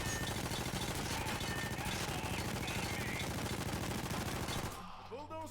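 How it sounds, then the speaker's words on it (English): Sustained full-automatic gunfire from a weapon in the video game Payday 2 roars dense and loud for several seconds, then cuts off abruptly into a quieter game background. "if I just go full on unadulterated automatic fire."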